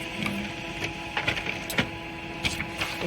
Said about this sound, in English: So my caseload is updated. We are printing that out.